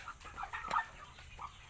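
Native chickens, including a deckled brown hen, cluck in a backyard farm, with a few soft, short calls spread across the moment at moderate distance over quiet background.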